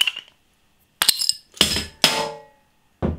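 A bottle opener works the cap off a Belgian craft saison beer bottle with a gold cap and cork, giving a few sharp metallic clinks and scrapes in separate bursts, close up, with silence between.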